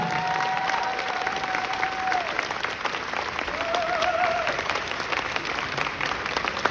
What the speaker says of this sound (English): Can we have a big round of applause for Bob and Eliza